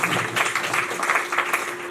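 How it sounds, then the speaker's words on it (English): Applause from a lecture audience welcoming a professor to speak at a college lecture series, a steady dense patter of many hands filling the room for a couple of seconds. "With a huge round of applause, we welcome Professor Saad Parvez to speak."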